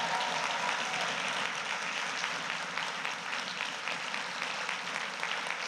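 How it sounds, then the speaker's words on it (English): An audience at a nurses' union provincial address gives sustained applause, a steady wash of clapping heard from a middle distance without any talk over it. "can we give them another round of applause?"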